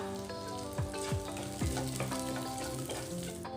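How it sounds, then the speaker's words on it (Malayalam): Green chilies, dried red chilies and curry leaves fry in hot oil in a pan while an egg dish is cooked, giving a steady close sizzle with a few stirring scrapes and no talk. "എല്ലാം കൂടി നന്നായി ഒന്ന് ഫ്രൈ ചെയ്തെടുക്കുക"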